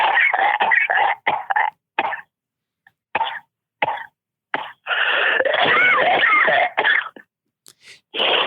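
A person coughs repeatedly in harsh, close bursts, some clustered in quick runs with short silent gaps between, followed by a longer fit of rough throat noise.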